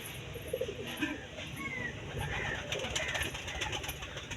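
Karna pigeons, one red and one black, coo softly inside a cage, their low repeated calls blending with a steady background hum and a few faint chirps.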